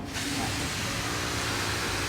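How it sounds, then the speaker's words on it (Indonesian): A motorbike-washing pressure sprayer blasts water mist inside an oyster mushroom growing room, a loud, steady hiss that starts abruptly and continues without a break, with no voices. "Pakai alat yang cuci motor."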